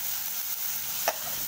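Chopped tomatoes sautéing in a pan with a continuous soft sizzle and one brief scrape of stirring partway through, no speech.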